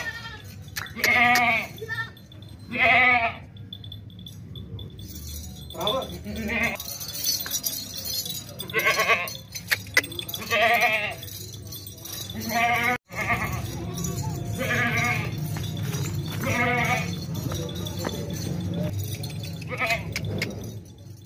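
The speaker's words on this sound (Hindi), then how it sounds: "मोटा वजनी बकरा है माशाल्लाह से, बड़ा ब्रीडर बकरा है" Goats, including heavy breeder billy goats, bleat repeatedly, loud and near, several overlapping calls with short pauses between them over a low outdoor rumble.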